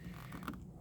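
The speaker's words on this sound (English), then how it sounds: "So let me connect the wrench right here." Faint creak of a wrench turning a tightened bolt while an ash tray is removed from a 2004-2006 Cadillac SRX or CTS, a brief quiet strained squeak under a second long.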